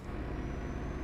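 A truck's air brakes hiss loudly and continuously in Euro Truck Simulator 2, a broad, steady release of air heard close up, alone, during a night drive in rain.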